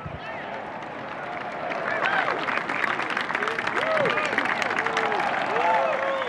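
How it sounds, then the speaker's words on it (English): A golf crowd claps and cheers steadily, the applause swelling slightly, with scattered voices calling out in the mix. "then you kind of heard the crowd kind of reacting to it"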